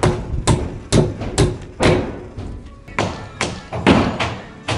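A nail gun driving nails into wood framing at a dormitory build site, about nine loud, sharp thuds in an uneven rhythm, close by, with no talking over them.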